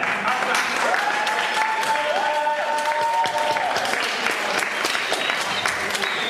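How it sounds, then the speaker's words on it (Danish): An audience applauds a performer at a Danish comedy show, with steady, dense clapping throughout and a few sustained tonal whistle-like notes riding over it. "mine damer og herrer, I må godt klappe lidt af ham lige til at få ham i gang"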